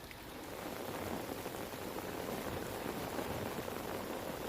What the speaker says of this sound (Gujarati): વલસાડ અને આસપાસના વિસ્તારોમાં પણ વરસાદ જોવા મળી રહ્યો છે